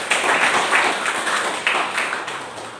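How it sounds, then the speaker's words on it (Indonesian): A church congregation applauds in worship, a brief burst of close, dense clapping that swells in rough waves and fades slightly, with faint voices underneath. "Tepuk tangan buat Tuhan."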